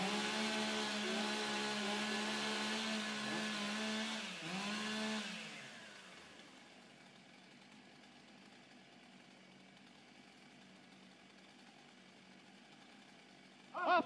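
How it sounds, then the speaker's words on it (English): Chainsaws idle and rev loudly during warm-up at a women's STIHL timbersports competition, a steady buzzing drone for about five seconds that cuts out, leaving quiet arena ambience before a brief sharp burst at the end. "Warm up your saws."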